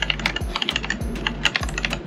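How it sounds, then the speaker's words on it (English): Clicky mechanical keys on a Blackmagic Speed Editor controller, sounding like an old 1980s IBM keyboard, tapped in a quick irregular rhythm of sharp close clacks with no talking. "that sounds like a 1980s IBM keyboard"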